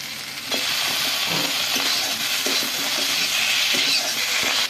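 Okra and raw and ripe tomatoes sauté in a pan for a kopta dish, a continuous close sizzle with soft scraping and stirring taps that starts after a brief quiet moment.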